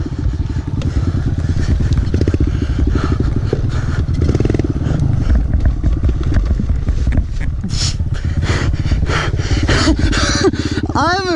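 A motorcycle ridden through snow, its engine running steadily up close with scraping and clattering over it, and a brief rising whine near the end.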